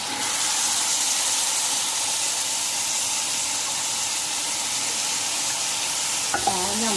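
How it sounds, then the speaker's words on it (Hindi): Cumin seeds fry in hot oil in a pan while a chicken Patiala dish is being made. A loud, steady sizzle carries through the whole stretch, with a faint clink or stir near the end and no voices. "अब पहले मैं इसे थोड़ा सा भूनूंगी"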